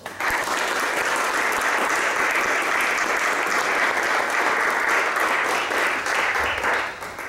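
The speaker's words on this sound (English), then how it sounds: "Let us give them an applause." Sustained audience applause at a Toastmasters club officer installation, steady and full, dense clapping filling the room for several seconds before tapering at the end.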